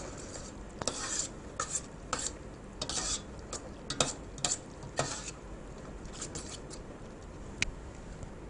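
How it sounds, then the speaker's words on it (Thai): A spoon scrapes and taps inside a pot as a pork and ham dip simmers, in irregular soft clinks and scrapes at close range, fairly quiet and with no talking. "แต่ในขณะเคี่ยวเราก็ต้องคนนะคะ"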